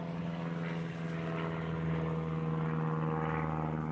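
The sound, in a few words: airplanes flying overhead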